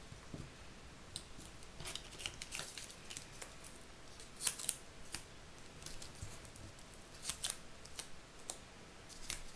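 Scissors snip through paper while a Father's Day card is being made, a scattered series of short, crisp cuts, some close and sharper, over a quiet background.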